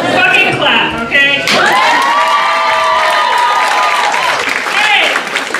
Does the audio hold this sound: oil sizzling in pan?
no